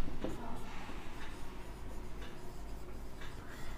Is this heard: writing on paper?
yes